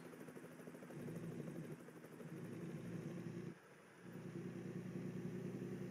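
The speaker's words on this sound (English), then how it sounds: "Here's a helicopter." A helicopter flies overhead, its steady rotor thrum and engine drone fairly faint but continuous, briefly dipping in the middle before swelling again.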